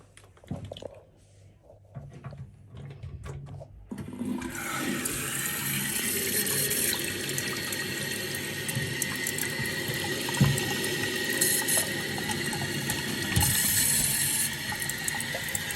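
A toilet cistern fills with water after its valve is opened: after a few quiet seconds, a steady, close rushing and hissing of water begins and continues without a break.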